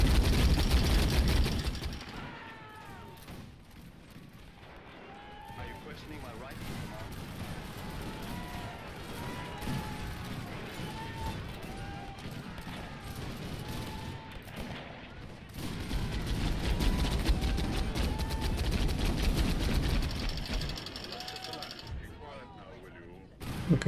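A Maxim gun fires in a British Empire battle from the Khartum and Zulu video game mod, giving a long, fairly faint stream of rapid rattling bursts with faint voices drifting over it.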